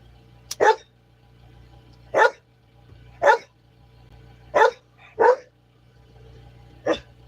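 A young puppy barks outdoors in six sharp, separate yaps spaced a second or more apart, fairly close and loud over a low steady hum.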